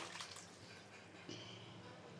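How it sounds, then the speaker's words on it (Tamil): Tamarind water poured into a simmering kulambu of tomato and lentil dumplings, a faint, quiet splash and trickle of liquid lasting a couple of seconds, close by, with no voices. "இப்போ நம்ம புளி தண்ணி ஊற்றிடலாம்"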